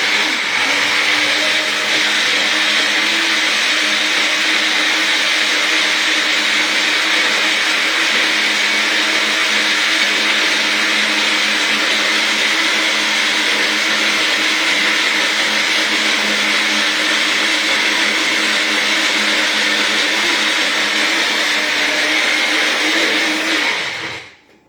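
A mixer grinder crushes a homemade paste, its motor whirring loudly and steadily for about twenty-four seconds before it cuts off abruptly.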